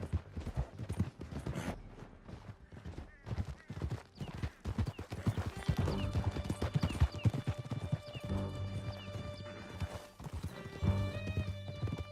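Galloping horse hooves in Red Dead Redemption 2 pound in a fast, steady clip-clop rhythm, close and continuous, with occasional whinnies and game music swelling in the background.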